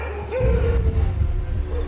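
Village dogs at night give a short burst of yelping and whimpering barks, close and fairly loud, with no talk over them.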